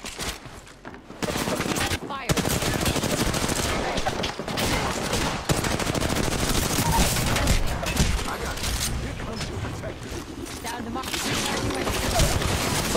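Dense gunfire from a video game rattles loudly in sustained bursts, with a voice talking now and then under the shooting.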